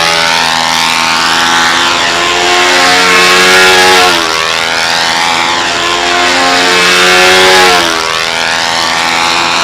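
Model airplane engine screaming at high revs with the carburetor opened up, a loud sustained whine whose pitch sweeps up and down in repeated passes as the plane circles, no talk.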